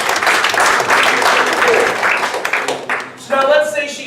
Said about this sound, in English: give her a little louder applause